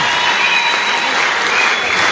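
Warm, dense applause from an audience as a guest comes onto the stage at an association fundraising event, a steady loud patter of many hands throughout.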